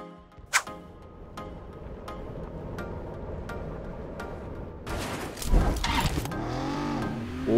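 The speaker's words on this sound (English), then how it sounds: "car engine sound is very cool." Maserati car skin's engine in the mobile battle game PUBG Mobile, humming steadily, then surging into loud revs whose pitch sweeps up and down over the last few seconds.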